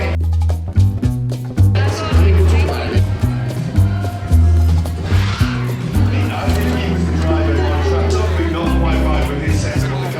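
Formula 1 race cars at the Mexico City Grand Prix roar loudly in a sustained, close engine drone with shifting pitch, and crowd noise and voices blend into the din.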